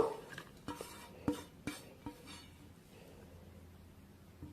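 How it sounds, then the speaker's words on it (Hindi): Washed noodles are moved into a kitchen vessel, with a run of sharp clinks and knocks of utensil on metal pot that start close and fade into soft scraping, and no speech. "अब हम क्या करेंगे, इसको एक बर्तन में ट्रांसफर करेंगे अपने लच्छों को।"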